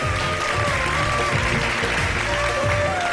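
A live iftar television show audience applauds the winner of a bike prize, a steady wash of clapping with faint tones carrying underneath.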